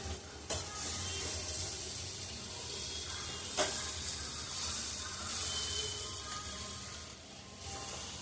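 Tondli bhaji frying in an open pan over a low flame while being stirred: a steady, close sizzle with a few scraping knocks of the spoon against the pan, and no voices.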